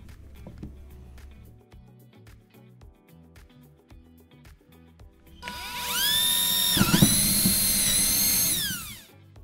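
A high-pitched electric drill whines loudly for a few seconds near the end, drilling to a controlled depth while mounting an Origin Skyforce, starting after quieter tapping and handling noises, with a brief dip in pitch midway.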